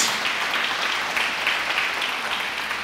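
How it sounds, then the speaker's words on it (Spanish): Congregation applauding during a church service, a sustained even patter of many hands clapping at steady volume for a few seconds, without speech. "Dale un aplauso a Jesús."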